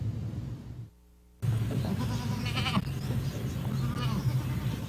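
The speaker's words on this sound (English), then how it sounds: "Toggenburg goats have a reputation for being great milk goats." Toggenburg goats, a dairy breed, on a small Blount County farm, bleating in a steady outdoor chorus with a brief drop near the start before the calls resume, moderately loud throughout.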